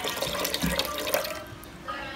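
Water pours into a no-egg Ponche Crème mixture, a steady broadband splashing stream running continuously at close range, easing slightly toward the end, with no talking.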